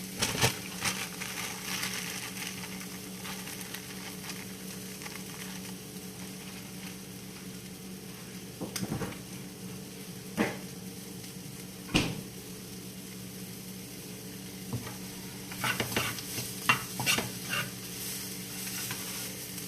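Pork steak sizzles steadily in a frying pan, a continuous low hiss broken by a few sharp clatters and scrapes as the meat is moved and flipped, with no voices.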